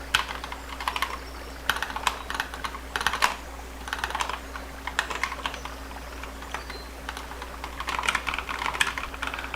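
Steady typing on a computer keyboard, close and clear, with bursts of quick key clicks separated by short pauses, all under a low constant hum and with no talking.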